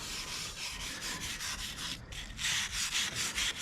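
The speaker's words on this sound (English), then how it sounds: "I'll go over all this stuff here and just kind of scrub everything I can" A brush scrubs stained areas of an old machine tool being restored, with fast rhythmic back-and-forth strokes close by, a brief pause, then heavier, louder strokes.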